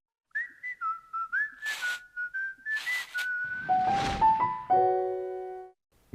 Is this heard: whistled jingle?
yes